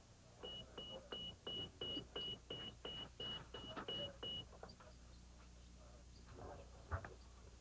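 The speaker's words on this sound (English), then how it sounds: "We're going to be beeping it now." A phone beeps in a steady series of about a dozen short identical tones, evenly spaced, then stops, leaving faint background noise.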